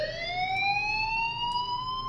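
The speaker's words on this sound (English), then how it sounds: "The fire alarm is beginning to pierce my ears" A fire alarm in the video game Life Is Strange sounds as a loud, continuous electronic tone that glides slowly upward across two seconds, with faint clicks behind it.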